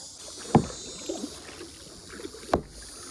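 A small boat out on the water in Ha Long Bay gives two distinct splashy knocks about two seconds apart, like paddle strokes, over a soft steady wash of wind and water.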